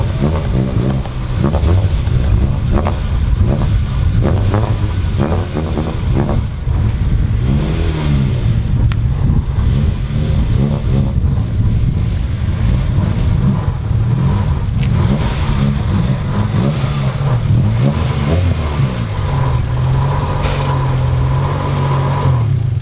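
A manual-transmission car engine revs repeatedly, rising and falling in loud, close bursts as the driver struggles with the stick, with a steady low rumble underneath.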